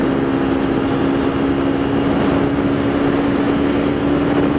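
A Yamaha SZ-150RR motorcycle engine in fourth gear gives a steady, even drone with a constant hum under broad road and wind rush, close and continuous throughout.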